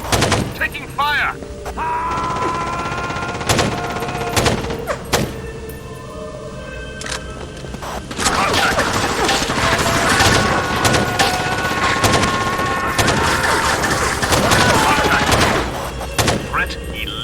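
Sharp bursts of gunfire in the Rainbow Six 3 video game, with repeated rapid shots and single cracks close and loud, interspersed with brief pauses and background game noise.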